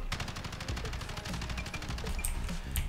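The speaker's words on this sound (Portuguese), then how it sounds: "Vamos dar uns tiros aqui sozinho." Rapid automatic gunfire from the video game Warzone bursts in a steady stream of shots, with a few sharper metallic clinks near the end.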